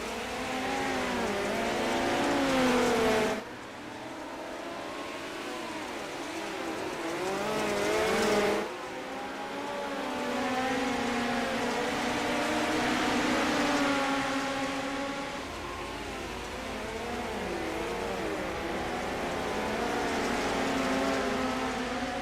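Midget race cars racing on the Weedsport track in an esports sim race, engines revving and droning loudly with rising and falling pitch as cars pass and accelerate, with a couple of sharp cutoffs between passes.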